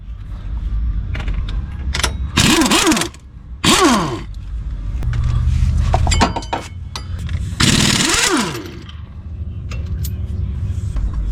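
Impact gun on a 2005 Ford 3.0 OHV engine gives three loud whirring bursts of a couple of seconds each, rising and falling in pitch, over a steady workshop drone, up close with no talk.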